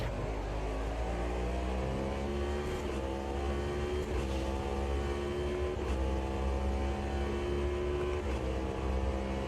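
A V8 race car engine in the Automobilista 2 racing simulator, a trophy truck session, drones loud and steady with rising and falling revs through gear shifts, continuous and close with no talking over it.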